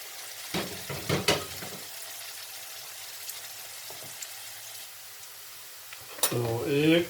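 Chopped onions and green chillies hit a hot pan for dhaba-style chana dal, with a few sharp clatters and stirring noises, a low sizzle in between, and a voice speaking near the end.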